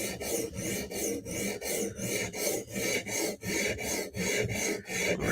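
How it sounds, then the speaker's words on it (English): Steady back-and-forth rasping of a blade edge being honed on 150 grit abrasive, about a dozen even strokes in a regular rhythm, close and fairly loud with no talking. "try putting a working edge on this and just do a 150 grit edge."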